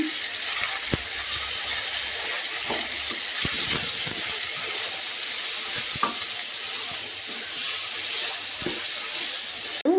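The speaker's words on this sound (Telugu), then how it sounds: "వేడి నీళ్ళన్నీ వంచేద్దామండి." Hot water drained from a cooking pot, heard as a steady hissing pour close by, with a few small knocks and a clunk near the end.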